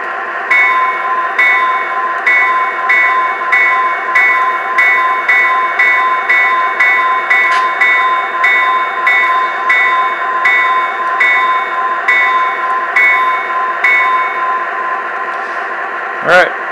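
A locomotive bell sounded through a locomotive control system, ringing steadily and loudly in an even, repeating rhythm of about two strikes per second for many seconds.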